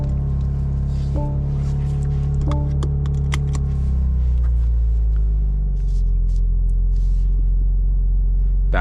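A 2025 BMW M4 Competition xDrive driving, a loud, steady low engine rumble and road drone inside the cabin, with a few faint clicks and knocks over it and no talk.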